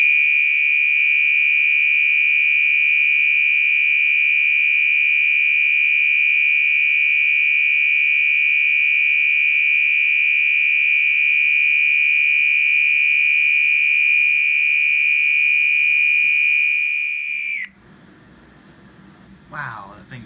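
A Gentex HG124W fire alarm horn blares a loud, steady, piercing tone up close for about seventeen seconds, then cuts off abruptly, leaving a brief quiet with faint handling noise.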